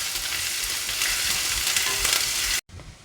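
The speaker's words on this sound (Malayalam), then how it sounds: "ഇനി ഇത് രണ്ടും നമുക്കൊന്ന് ചെറുതായിട്ട് വഴറ്റി കൊടുക്കാം" Crushed garlic and ginger sizzle in a hot pan for a Kerala fish curry, a dense close frying hiss with light stirring, cutting off abruptly near the end.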